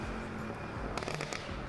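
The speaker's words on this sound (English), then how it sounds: "on the downshifts, lots of crazy, loud pops and bangs" A quick burst of sharp cracks and pops from a car exhaust on downshifts, several in rapid succession, over a low engine rumble.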